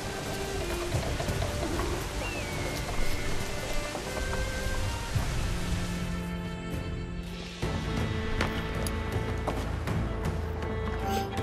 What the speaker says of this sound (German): Warum ausgerechnet im Regen hier, ey?